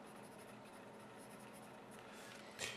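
A Youva Stallion Super Black pencil writes on paper in a steady, soft graphite scratch that runs close and continuous, ending with a brief louder scrape.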